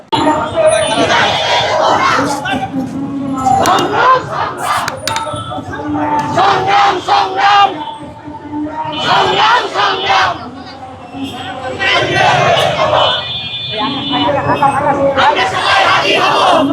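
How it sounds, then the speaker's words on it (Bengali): A large protest march crowd starting from Shahbag in Dhaka chants slogans in loud rhythmic unison, demanding arrests in the Sharif Osman Hadi case, with call-and-response bursts rising and falling over a continuous street hubbub. "শাহবাগ থেকে এই বিশাল বিক্ষোভ মিছিল শুরু করেছেন এবং স্লোগানে কিন্তু মুখরিত করছেন"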